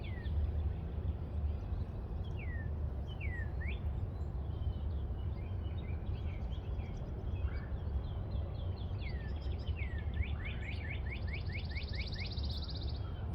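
Several birds sing and whistle outdoors in the middle of a city over a steady low rumble of distant traffic, with short rising and falling calls scattered throughout.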